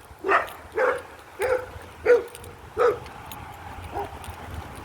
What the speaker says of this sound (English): I hope that dog is on my leash.